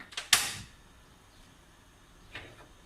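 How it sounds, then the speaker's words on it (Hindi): A gas stove knob is turned with a sharp mechanical click and a brief burst of noise, followed a moment later by a softer second click. "अभी चूल्हे को नीचे से कर देते हैं ऑन"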